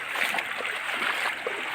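Water discharging from a check dam into a canal, a steady close rush with splashing and gurgling, continuous and moderately loud.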